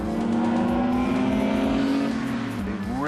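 A BMW race car drives around the Calder Park circuit, its engine droning steadily nearby with a sustained tone that rises sharply in pitch at the end as it accelerates.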